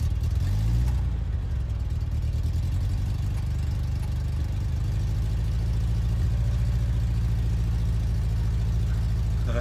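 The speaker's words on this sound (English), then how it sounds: "Listen to that engine purr one more time in a different locale." A car engine revs briefly at the start, then settles into a steady, close, low drone that fills the rest of the stretch, with no talking.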